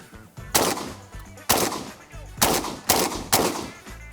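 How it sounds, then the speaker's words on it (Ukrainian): Five loud, sharp shotgun blasts fire one after another at uneven intervals, each a heavy boom with a short decay, close by. "Прицілюєтесь і стріляєте"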